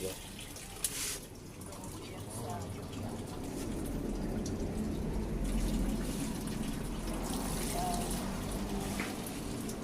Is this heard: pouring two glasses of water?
yes